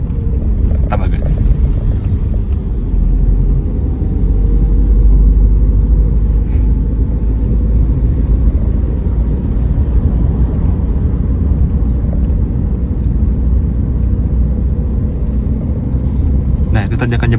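Manual car on a public road during a first-day driving lesson, engine droning steadily and close throughout under continuous in-cabin talk, with low road rumble filling the background.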